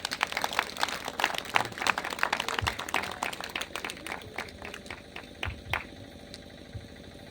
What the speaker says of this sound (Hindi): एक बार जोर से हम लोग बजाएंगे ताली यीशु मसीह के लिए